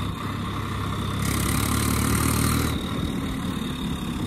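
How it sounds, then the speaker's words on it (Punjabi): A tractor engine runs at a steady, close idle, holding an even, throaty drone for the whole stretch with no voices over it. "ਅਤੇ ਹੁਣ ਲੈ ਕੇ ਚੱਲਦੇ ਟਰੈਕਟਰ ਨੂੰ ਆਪਾਂ"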